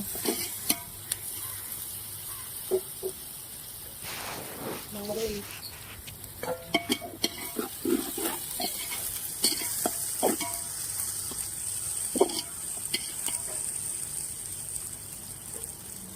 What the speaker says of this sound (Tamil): சேர்த்துட்டு நல்லா மிக்ஸ் பண்ணிக்கோங்க. இது அடிப்பிடிக்காமல் ஃப்ரை பண்ணிக்கோங்க.